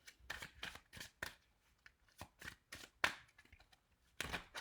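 Tarot cards are shuffled and drawn close up in a quiet room, a series of soft irregular riffling and slapping bursts with a sharper snap partway through, faint and without talk.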